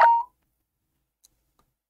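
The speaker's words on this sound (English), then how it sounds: "I just received a text message on my phone." A phone text-message alert in the Mollusk Mysteries snail video game: one short, clear electronic chime at the very start, followed by near silence with a couple of tiny faint ticks.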